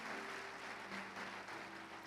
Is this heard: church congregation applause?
yes